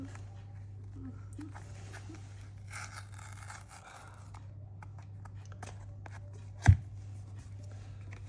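Packaging for an original Apple power adapter is opened, giving soft rustling and scraping of cardboard and paper over a steady low hum, with one sharp knock near the end.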